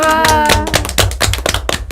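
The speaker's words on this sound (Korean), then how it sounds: "우리 이참에 시장님한테 응원의 박수 한번 보내드릴까요?" Audience members at a public radio broadcast clap together for the mayor in a short, loud burst of sharp hand claps that starts full and then thins into scattered, uneven claps.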